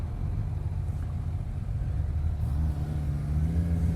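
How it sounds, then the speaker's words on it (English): Steady low engine drone from a 2018 Suzuki GSX-S750 ABS motorcycle while riding, a constant muffled rumble with a pitch rise near the end, no talking. "you can feel the engine noise"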